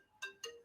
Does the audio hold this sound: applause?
no